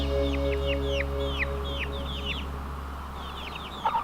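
Chickens cluck and chirp in short repeated calls over a steady low hum, with a slightly louder squawk near the end.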